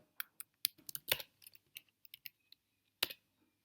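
Typing on a computer keyboard: a run of distinct close key clicks in an uneven rhythm with short pauses, ending in a couple of isolated presses, quiet and without any voices.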